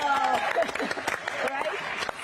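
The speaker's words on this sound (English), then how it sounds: "I think we can clap to that," Audience clapping at a NASA news briefing on the DART asteroid impact mission, a dense patter of applause mixed with voices in the room.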